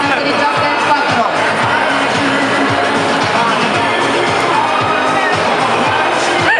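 A loud crowd cheering and shouting at a Just Dance 4 stage event at the Romics 2012 fair, a dense continuous roar of voices with children's shouts.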